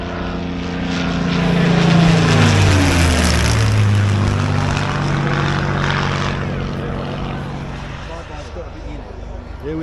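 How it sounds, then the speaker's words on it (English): A Tomahawk sport model jet with 200 newtons of thrust makes a flyby at a model flying meet, a loud whooshing roar that swells, shifts pitch as it passes and fades, with people talking underneath. "Here we have Neil flying his Tomahawk sport jet."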